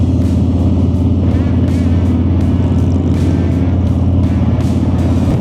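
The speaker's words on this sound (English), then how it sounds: "it's nice to watch all the bikes cruise through the countryside" Harley-Davidson motorcycles cruise through the Scottish countryside, a loud, steady low engine rumble with constant wind buffeting from riding along.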